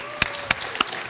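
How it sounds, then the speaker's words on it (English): Audience applause at a conference on hyper-casual mobile games, heard as a few sharp, evenly spaced claps over quiet room tone. "Please, more applause."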